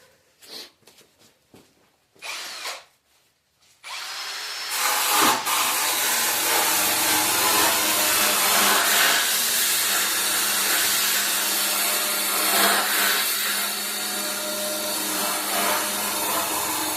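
A wire brush spun by a power drill scrubs an old Ford Model A gas tank, starting as a loud, steady grinding hiss after a few seconds of quiet handling noises and running without a break to the end.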